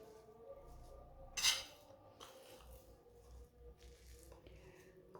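A spoon mixes spices such as chilli, turmeric, whole cumin and coriander into an aloo matar samosa filling, making soft squishy scrapes and one brighter clink against the bowl, close and quiet.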